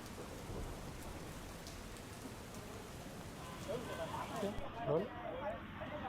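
Heavy rain pours steadily in Valsad, Gujarat, with a low rumble underneath, and a voice talks faintly beneath the downpour toward the end.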